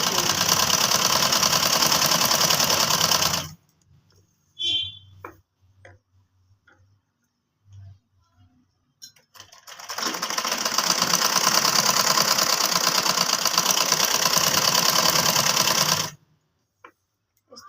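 An electric sewing machine stitches a kurti trouser, a loud, close rapid clatter that runs for several seconds, stops for a pause with small handling sounds, then runs again in a longer burst before cutting off.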